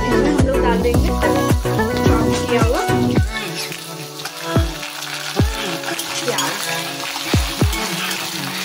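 Egg being added to a hot pan for fried rice, a steady close sizzle and frying hiss running throughout, with a few sharp clinks and taps of utensils against the pan.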